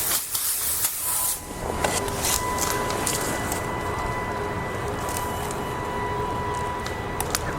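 A garden hose sprays water steadily into the inner barrel of a neglected car wheel, giving a close, continuous hiss with a few spattering bursts and a faint tonal whine underneath.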